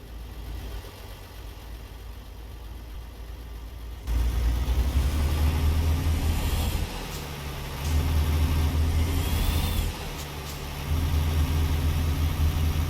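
A heavy truck engine in American Truck Simulator idles low, then revs up in loud steady surges through several low gears, dropping briefly at each shift, with no talking.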